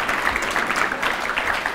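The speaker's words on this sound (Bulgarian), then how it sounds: "Аплодисменти за Milestone!" A crowd applauds steadily at the closing of a QA conference, a dense continuous wash of clapping from many hands filling the room.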